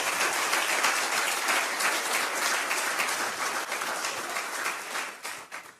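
A church congregation applauds and cheers to acclaim Jesus during a French-language service, a dense, steady roar of clapping from many hands that fills the room and fades slightly near the end.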